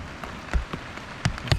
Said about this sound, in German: Es regnet einfach.